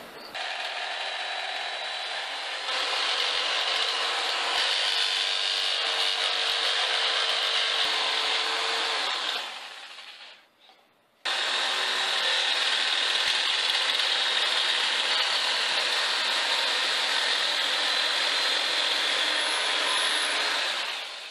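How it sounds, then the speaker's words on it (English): A jigsaw cuts wood for a mini crossbow, a loud, close, continuous buzzing rasp that runs for about ten seconds, stops briefly, then resumes steadily. "I'll have to use my jigsaw to cut it out."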